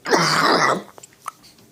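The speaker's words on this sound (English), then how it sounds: "Dry pipes make me cough." A single harsh, raspy cough or throat-clearing lasting under a second, followed by a few faint clicks and small noises in a quiet room.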